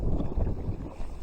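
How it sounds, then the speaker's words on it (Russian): Strong wind buffets the microphone outdoors during a fishing trip, making a brief, deep, rumbling roar that dominates with no voices. "Ветер сильный,"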